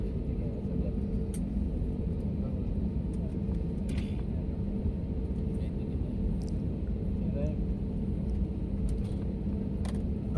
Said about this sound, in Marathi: आता विमान रनवेवर चालत आहे